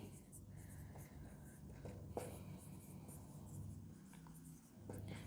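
Hand writing during a class 10 maths lesson, faint scratchy pen strokes in short irregular runs over low background hum, quiet and close.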